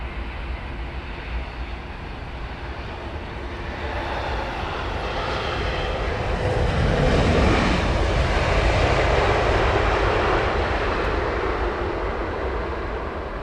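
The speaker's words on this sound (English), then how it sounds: "that British Airways 777 was from Mumbai" A British Airways Boeing 777 from Mumbai comes in to land on runway 27R at Heathrow, its broad jet roar swelling steadily to a loud peak and holding there, with no voices over it.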